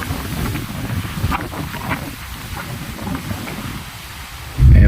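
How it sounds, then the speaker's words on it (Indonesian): Strong wind buffets the microphone at sea in the Sunda Strait, with a steady roar of wind and rushing waves around a boat in rough weather, ending in a loud close gust. "angin bertiup kencang, gelombang cukup tinggi"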